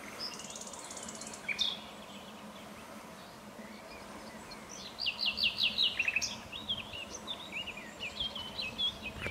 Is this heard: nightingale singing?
yes